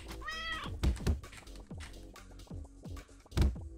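A cat meows in a game, a short harmonic call near the start followed by several low thumps and knocks through the rest of the clip, fairly loud with no talking.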